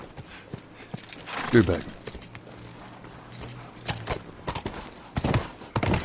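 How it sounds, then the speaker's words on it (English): Horse hooves clip-clop in The Last of Us, irregular thudding steps on the ground mixed with rustling movement, while someone talks over them. "I'm going to need the horse for this part."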